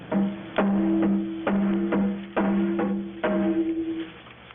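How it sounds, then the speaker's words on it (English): A low-pitched one-sided rawhide frame drum struck five or six times at an uneven pace, each hit booming and ringing out with a warm, resonant hum before the next. "This one happens to be a one-sided drum."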